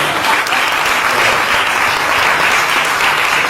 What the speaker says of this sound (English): one more time, a round of applause for Mr. Bubu.